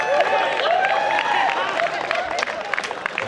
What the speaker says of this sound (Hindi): तालियां थोड़ी कम है आपकी, अच्छी बजाइए